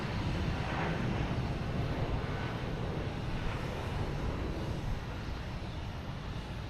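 A Spirit Airlines jet takes off at Boston Logan Airport on a summer afternoon, its engines a steady, broad roar heard from the spotting area, loud and continuous throughout with no voices over it.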